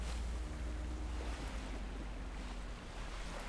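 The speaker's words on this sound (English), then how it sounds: "Interesting how it splashes at the front right there" A trimaran skiff in Guild Wars 2 cuts through water with splashing at its bow, a faint steady wash of spray and waves under a low rumble of movement.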